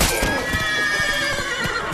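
Roach, Geralt's horse in The Witcher 3: Wild Hunt, neighs loudly and clearly, a drawn-out whinny running almost the whole time, with galloping hoofbeats clopping beneath it.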